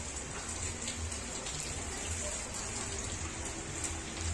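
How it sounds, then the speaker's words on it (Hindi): Rain falls steadily outdoors near a doorway where a bicycle and motorbike are parked, a dense, even hiss of drops with low patter, continuous and moderately soft, with no talking. "अभी जो बारिश पड़ रहा है,"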